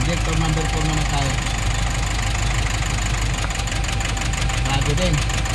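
Nissan NV350 van engine idling steadily during an injector test, injector number 4 under check; a continuous close mid-pitched hum with a rough, knocking pulse and vibration, under intermittent talk.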